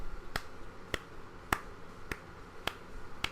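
Single sharp hand claps ring out one at a time, six evenly spaced strikes roughly half a second apart, close and crisp above a quiet background.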